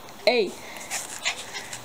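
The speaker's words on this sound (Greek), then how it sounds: "Ξέρω ότι είναι puppy και κάνει puppy biting." A puppy gives one short, sharp yelping bark near the start, followed by quieter rustling and faint noise; no talk over it.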